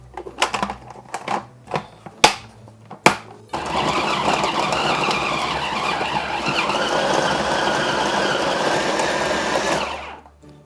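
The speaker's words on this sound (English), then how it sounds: "I'm just going to throw that inside the food processor and chop them up a little bit." A food processor whirs steadily, chopping dates, apricots and pineapple for a Christmas cake, running continuously for several seconds after a few sharp clunks and knocks as the fruit goes in, then stopping abruptly.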